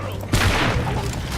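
Gunfire in the video game Orcs Must Die! 2 as enemies are shot up close, heard as a sudden burst of muffled blasts and rumble after a short lead-in, with a voice talking over it.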